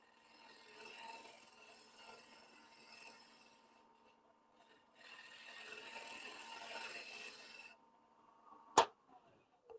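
Bowl gouge taking a fine cut across face-grain wood on a lathe spinning at 1200 RPM: faint, steady hissing scrape in two long passes, then a single sharp knock.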